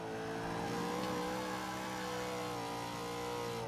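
Nissan Silvia Spec R in Forza 5 accelerating, a steady mid-pitched engine drone that climbs gradually in pitch, heard close and alone without talk, fairly quiet overall.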